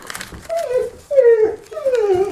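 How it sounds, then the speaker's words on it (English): Dog whimpering as it wants to play, three close, high, drawn-out whines that slide downward in pitch, each rising clearly out of a quiet room. "My dog wants to play."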